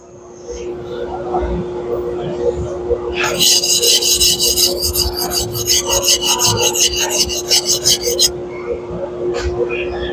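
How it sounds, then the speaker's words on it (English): A 240mm white steel deba knife is sharpened on a coarse 220 grit Tojiro whetstone. After a quieter start, a loud run of rapid, rhythmic rasping strokes goes on for about five seconds, then stops. "Using my old stone. This is a 220 grit stone from Tojiro."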